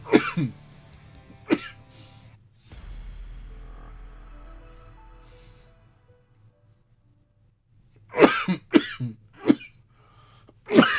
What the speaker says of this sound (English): My throat's too dry and it's starting to cough.